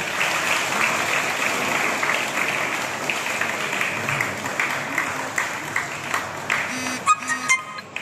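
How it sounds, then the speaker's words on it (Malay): An audience of school students claps together at a Nuzul Al-Quran religious talk, a dense, sustained round of applause that thins out toward the end into a few louder scattered claps. "Tepukan untuk masing-masing"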